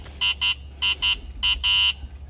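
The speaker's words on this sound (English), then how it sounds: "That beeping is my air ride suspension telling me that the airbags are low." Air ride suspension warning in a 2005 Toyota Tacoma cab, signalling low airbags: six short, even electronic beeps in pairs, the last one held longer, steady and fairly loud over a faint low hum, with no talk.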